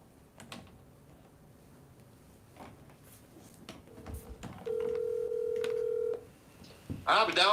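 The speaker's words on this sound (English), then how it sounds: "Let me see if I can get him on the phone." A telephone call being placed, with a steady dial tone and tones sounding for a couple of seconds amid light room noise and brief voices.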